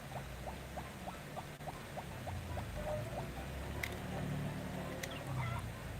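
Harvest Moon Friends of Mineral Town chickens cluck in a quick, even series of short chirpy pecking notes over a steady low game-music hum, followed by a couple of brighter isolated blips.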